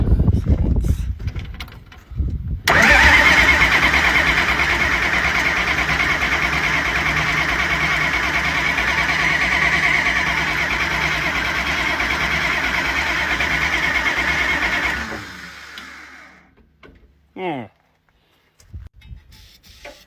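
A White 2-70 tractor engine cranks briefly, then catches and runs loud and steady for about twelve seconds before shutting down, leaving faint knocks and a short squeak.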